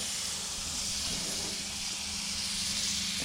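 Butter sizzles on a Coleman tabletop grill, a steady, fairly loud hiss that runs unbroken throughout with no talking.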